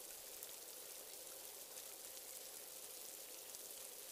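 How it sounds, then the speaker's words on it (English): Steady rain falls in a continuous broadband hiss, soft and even throughout, with no voices and no gaps. "Listen to the rain, the roaring, pouring rain."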